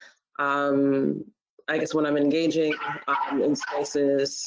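A dog barks and whines in the background, with a drawn-out yelping cry near the start, while a person keeps talking over it.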